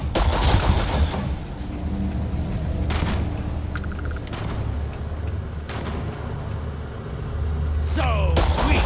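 Sci-fi gunfire rings out in the Starfield video game: loud bursts of shots at the start and end over a continuous rumbling game soundscape.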